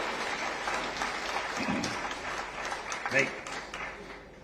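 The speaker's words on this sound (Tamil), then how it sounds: "இந்த அமைப்புக்கு ஒரு நல்ல கைத்தட்டு கொடுங்க" A crowd claps in applause, a dense patter of hands that stays fairly steady and moderately loud throughout.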